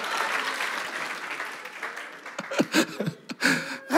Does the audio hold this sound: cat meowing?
no